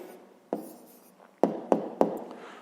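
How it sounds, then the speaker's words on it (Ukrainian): Pen strokes on paper as a math answer is written out by hand, a soft continuous scratching broken by a few sharper taps, close and quiet with no talking. "Ну що ж, записуємо відповідь."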